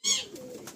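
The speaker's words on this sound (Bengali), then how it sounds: "বন্ধুরা দেখুন এত বিগ সাইজ পায়রা" A big-sized pigeon in a loft gives one short, close coo that rises sharply and then trails off into a low hum.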